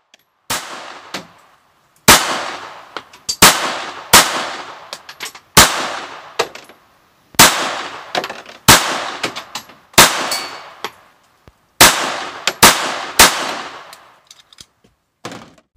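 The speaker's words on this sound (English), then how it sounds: "I started off shooting PMC bronze ammunition in 32 ACP." A Beretta Model 81 Cheetah pistol fires PMC Bronze .32 ACP at a range in sharp, loud single shots, about fifteen in all, each with a short ringing decay. They come in irregular pairs and clusters with brief pauses between.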